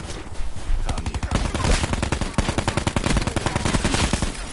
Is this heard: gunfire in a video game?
yes